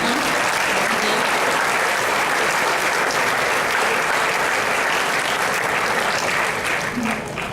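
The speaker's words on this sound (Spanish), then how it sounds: "también un aplauso para los orientadores educativos que están" A crowd claps loudly and continuously throughout, with a dense, even patter that stays steady until the end.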